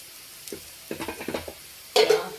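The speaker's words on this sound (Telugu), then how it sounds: "ఇట్లా నాన్ స్టిక్ కళాయిలో వేసుకుంటే చక్కగా ఏగుతాయి ముక్కలు." Raw banana pieces fry in a non-stick pan, giving short crackling sizzles with a few scraping stirs, then a louder burst of sizzle near the end, with no voices.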